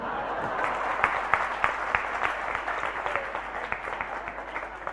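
An audience at a Jain religious discourse claps steadily for several seconds, a dense patter of hands, moderately loud and without speech.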